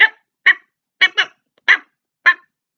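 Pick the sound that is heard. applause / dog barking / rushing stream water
dog barking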